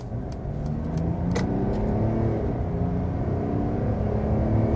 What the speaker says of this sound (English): And now here we go, acceleration of the diesel